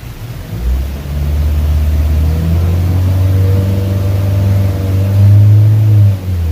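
A Honda Brio 1.2 CVT engine revs on the throttle, climbing from a low idle into a steady loud drone that rises again near the end before easing off, with no talking.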